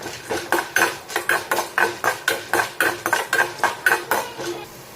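Chana dal and urad dal roast in a pan while a metal spoon scrapes and stirs in a fast, even rhythm of about three strokes a second, loud and close.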